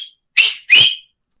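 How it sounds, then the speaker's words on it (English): Two loud, close whistled notes from a person, each under half a second, separated by a short gap, with no talking. "I was whistling. But now whistling really loudly"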